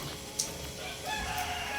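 Game farm hens clucking and a rooster crowing faintly in the background, a short burst of chicken calls at moderate distance over steady outdoor noise.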